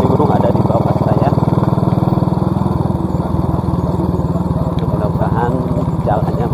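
A motorcycle engine drones loud and steady while riding a narrow rural road near the Cigunung river, with a continuous pulsing hum and no breaks.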